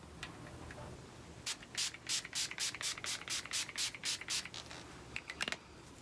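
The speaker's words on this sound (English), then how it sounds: "I'm gonna spray the Urban Decay Quick Fix Complexion Prep Priming Spray" A rapid series of about ten short, hissing bursts of Urban Decay Quick Fix Complexion Prep Priming Spray onto a face, in quick rhythm, close and fairly loud, with a couple of softer puffs after.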